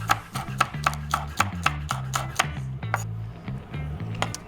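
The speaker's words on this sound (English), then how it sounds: "Chop this very finely." Knife rapidly chopping spring onion very finely on a board, a quick run of sharp, evenly spaced taps close up with a low hum underneath.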